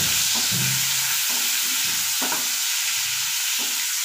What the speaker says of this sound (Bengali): এবার চিংড়ি মাছগুলো দিয়ে দেবো, চিংড়ি মাছগুলো ভেজে নেব।